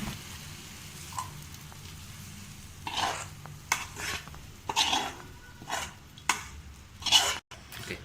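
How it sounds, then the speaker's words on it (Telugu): Onions fry in a kadai for egg biryani, a soft low sizzle broken by intermittent scraping stir strokes and light utensil clinks, fairly quiet and with no talking. "ఇది ఆనియన్ బ్రౌన్ కలర్ వచ్చే వరకు మనం ఫ్రై చేసుకుంటూ ఉండాలి."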